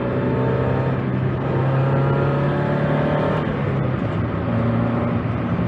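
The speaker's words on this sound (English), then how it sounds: "I think it's the exhaust leak." A Mazda Miata engine with an exhaust leak runs with a loud, rough droning rumble and steady hum, continuous throughout with no talking.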